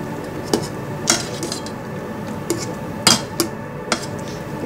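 Octopus stew in a pot being stirred, with repeated metallic clinks and knocks of a utensil against the pot at an uneven pace, fairly close and loud over a constant background hiss.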